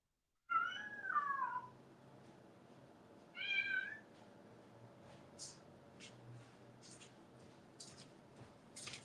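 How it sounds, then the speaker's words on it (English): A cat meows twice, close and fairly clear, with a drawn-out descending call followed by a shorter one, then faint scattered clicks and rustles against a quiet indoor background. "The cat's going crazy for this full moon"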